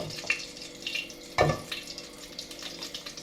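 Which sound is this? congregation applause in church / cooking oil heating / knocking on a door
cooking oil heating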